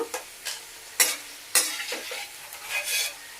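Fried bitter gourd pieces are scooped and stirred out of a sizzling pan, with a series of scraping, clattering strokes over a steady low frying hiss and no talk.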